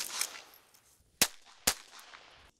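Pistol shots ring out at a target range, two sharp, loud reports about half a second apart after a faint rustle, and a third shot starts right at the end.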